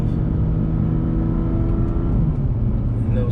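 A 2020 BMW M2 Competition with a burble exhaust tune drones at low revs, a steady deep engine rumble heard from close by with faint crackle and no voices over it.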